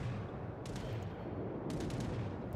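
Anti-aircraft guns in the naval game World of Warships fire in a steady, dense rattle of rapid bursts, a continuous crackling barrage without any talking.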